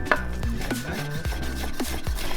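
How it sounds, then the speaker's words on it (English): Ginger being cut into thin slices with a kitchen knife on a cutting board for a beef tartare appetizer, giving a steady series of sharp, close knife chops about every half second, with no talking. "So I'm gonna chop some ginger, thin slices, not too thick"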